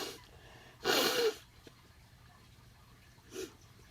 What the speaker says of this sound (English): I refuse to use paper to blow my nose